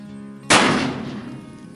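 A single sharp, loud report from a Pietta 1858 Remington New Model Army revolver fired at cans, cracking suddenly out of quiet and trailing off in a decaying echo.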